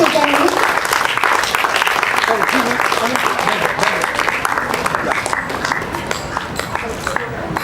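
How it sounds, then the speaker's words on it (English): A crowd at a youth cricket academy's under-12 premier league prize distribution applauds loudly and steadily, dense clapping sustained throughout with voices mixed in beneath. "A huge round of applause to Mr. Nilesh Kulkarni."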